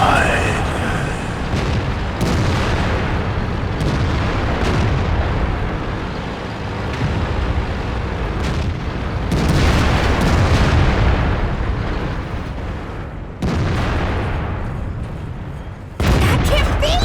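Tank cannon shots in World of Tanks with a T-54 Mod. 1, as several loud booming blasts come in bursts over continuous battle rumble, and someone talks over most of it.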